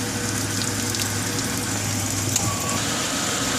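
Coolant drains out of the radiator of a 2001 Ford Ranger during a flush, a steady close trickling and splashing of liquid that runs continuously throughout, with a faint low hum beneath it.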